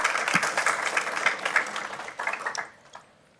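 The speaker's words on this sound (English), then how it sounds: "So a round of applause." Audience applause at a Lamar CISD school board meeting, a fairly dense burst of clapping that thins out toward the end and stops with a few last claps, leaving near silence.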